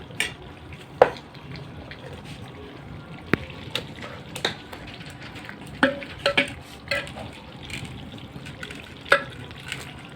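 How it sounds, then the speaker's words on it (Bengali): Rice, a mix of basmati and Gobindobhog grains, being stirred in a pot over a gas flame, with scattered scraping clicks of a utensil against the pot and a soft steady background hiss throughout. "এই দেখো পুরো ঘাটিয়ে নেব"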